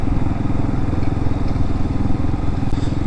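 A Hawk-X 250 dirt bike engine idles high, a loud, steady, close-up buzzing thrum with fast even pulses and no pauses.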